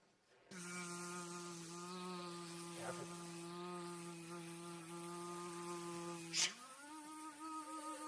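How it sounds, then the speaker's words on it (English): A released bee buzzes loudly and steadily at close range for several seconds, its drone holding an even pitch before shifting slightly near the end. "Now, Tom, release the 3rd and final bee."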